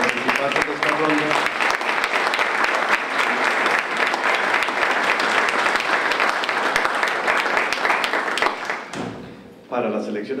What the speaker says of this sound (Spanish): Damos un aplauso a todos los participantes de esta ronda.